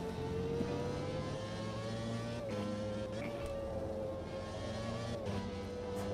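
A race car engine in a sim racing video game drones at a steady, fairly quiet pitch throughout, with only slight shifts in revs and no talking.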